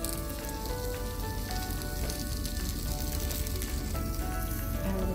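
Dosa crepe topped with mushroom slices and melting mozzarella sizzling on a hot pan, a steady dense crackle and hiss close by, continuous and even with no voices.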